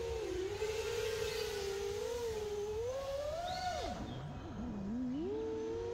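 A drone fitted with toroidal propellers hums steadily in a low, bass-like tone, its pitch wavering and dipping briefly before settling again, heard close and continuous with no talking.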